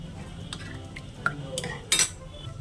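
Ponnaganti leaf dal ingredients being stirred together in a cooking vessel, with scattered utensil clinks and scrapes and a sharper clatter near the end, close and moderately loud with no talking.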